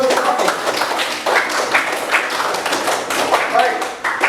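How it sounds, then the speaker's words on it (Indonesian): Classroom applause for a student, heard as a steady wash of many hands clapping together, close and fairly loud for a few seconds. "tepuk tangan untuk Fani"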